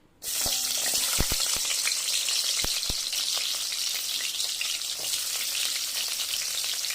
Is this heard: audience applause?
no